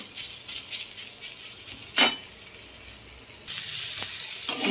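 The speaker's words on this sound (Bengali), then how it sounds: "এর মধ্যে পরিমাণ মতো নুন আর হলুদ দেবো, দিয়ে ভাজা ভাজা করব" Vegetable chorchori seasoned with salt and turmeric frying in a pan, a low steady sizzle with one sharp utensil clatter midway and a louder hiss swelling near the end, no talking.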